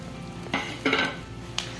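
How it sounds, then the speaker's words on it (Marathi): Stuffed green chillies sautéing in a pan with leftover spice filling, a low continuous sizzle broken by a few scraping stirs of a spoon against the pan, close and alone. "तर अशा प्रकारे आपल्या ह्या मिरच्या छान अशा आपल्याला परतून घ्यायच्यात।"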